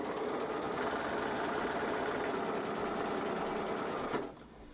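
A sewing machine runs steadily as it stitches through fabric scraps for an easy little house project, a loud, even mechanical whir that stops abruptly near the end.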